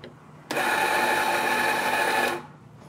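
An espresso coffee grinder grinds beans in one continuous loud whirring burst of about two seconds, close up, starting abruptly and tapering off, with no talking.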